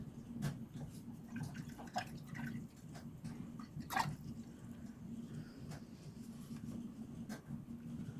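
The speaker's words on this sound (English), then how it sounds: "Brush a good rinse." A paintbrush is rinsed in a container of water while acrylic painting, giving soft drips and small splashes over a steady low background hum, with one louder slosh partway through.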